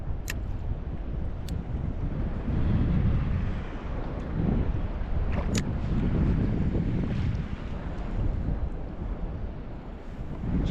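Steady, heavy wind buffets the microphone on an inshore stretch of coast during lure fishing for bass, a continuous loud roar with faint wash of surf beneath and no voices.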